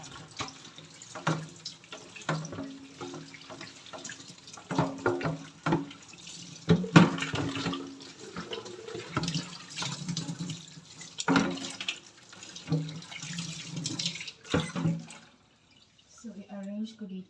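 Water runs from a kitchen tap while a basin and a soap dish are washed after a party, with splashes and clatter coming and going and some speech over the top.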